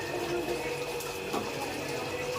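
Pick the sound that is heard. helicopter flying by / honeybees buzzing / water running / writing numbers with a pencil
water running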